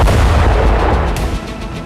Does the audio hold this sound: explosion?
yes